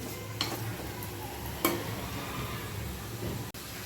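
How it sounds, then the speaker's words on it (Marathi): Green tomatoes being stirred in hot oil in a pan, a soft steady sizzle with a few sharp clicks of a spoon against the pan, close and fairly quiet. "टोमॅटो आपल्याला एक ते दोन मिनटं तेलामध्ये छान मिक्स करून घ्यायचे आहेत"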